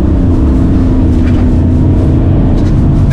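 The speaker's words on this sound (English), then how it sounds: "and straight line, full throttle" A BMW E46 330d diesel on a track day at full throttle, its engine a loud, steady, continuous drone close by, with no break and no rise in pitch.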